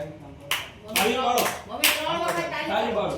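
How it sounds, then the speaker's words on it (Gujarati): Several sharp hand claps ring out one after another at a surprise birthday for a 75-year-old grandmother, evenly spaced and close by, with people talking throughout. "તમે 3 વખત તાળી પાડો"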